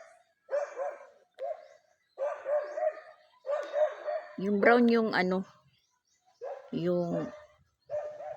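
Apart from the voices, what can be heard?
dog barking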